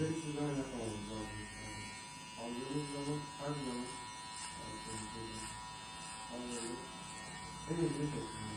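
An electric hair clipper buzzing steadily during a zero fade haircut, a faint, constant drone under a voice talking intermittently.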